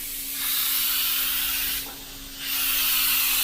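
An Iwata HP SB Plus airbrush sprays very thin paint at fairly high pressure, giving a steady close airy hiss in two long bursts with a brief dip between them.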